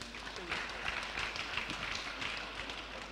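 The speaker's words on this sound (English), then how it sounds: "Please, let's clap for her." An audience at a church youth programme claps: a faint, steady patter of many hands that continues evenly for a few seconds without pauses.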